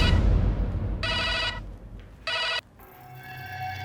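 A telephone rings for a call to a police station in Nashik, giving two short electronic ring bursts with a pause between them, followed by a softer tone. The rings are clear and close, and nobody talks.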